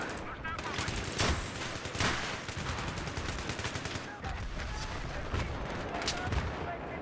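Dense gunfire in the Battlefield 3 shooter game, rapid overlapping shots and booming blasts that continue without a break and sound loud and close, including sniper fire.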